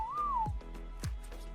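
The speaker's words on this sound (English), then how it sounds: "I just whistled by mistake too." A person whistles by mistake during Minecraft creative-mode play: a single sustained tone that rises slightly then falls, about half a second long, followed by soft thumping knocks, close and moderately loud with no talk.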